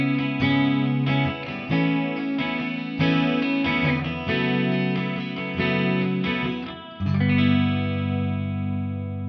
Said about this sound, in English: They sound good clean.